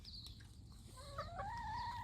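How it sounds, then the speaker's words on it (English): Chickens on a farm clucking close by, with soft rising and falling calls over a low background rumble, no talking. "Those chickens getting too close."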